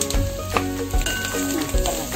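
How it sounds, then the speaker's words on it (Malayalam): Clam meat and coconut fry in a pan with a constant, close sizzle, while a spoon stirs and scrapes the pan in a quick, repeated rhythm. "കക്ക ഒരുവിധം മൂപ്പായിട്ടുണ്ട്. അപ്പോൾ തേങ്ങ ഇട്ട് വറുക്കണേന്"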